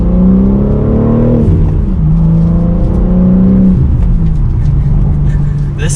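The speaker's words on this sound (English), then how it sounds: "it has a nice healthy grunt to it for that inline 6-cylinder" A 2022 BMW M3's inline six-cylinder engine drones steadily with a deep, throaty exhaust note, pitch rising and falling as it revs, loud and close throughout.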